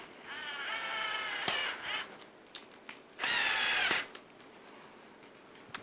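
A cordless power drill drives two screws to fasten the latch bolt of a PDQ XGT 116 door lock, with two close, loud whirring bursts and brief pauses and clicks between them.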